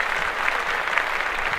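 Steady applause from a studio podcast audience fills the whole stretch, dense and even with no break, with no voices rising above it.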